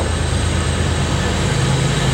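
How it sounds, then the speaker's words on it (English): A loud, steady rumbling roar of a train rolling past nearby, continuous throughout with a low heavy drone. "we'll wait till the engine goes by and it's not quite so loud."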